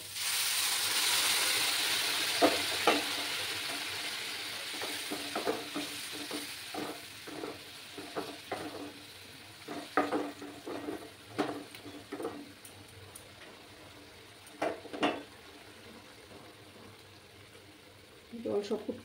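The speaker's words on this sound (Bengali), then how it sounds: "আমি এই রান্নার মধ্যে গরম জল দেব।" Hot water goes into a pan of frying spiced small fish and potato curry with spring onions, raising a loud hiss that fades into softer sizzling, broken by scattered clinks and scrapes of stirring. A voice speaks faintly in places.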